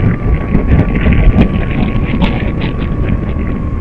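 Strong gusting wind at the seaside roars steadily across the microphone of a flying FPV drone, loud and continuous, with a thin whining motor tone running underneath.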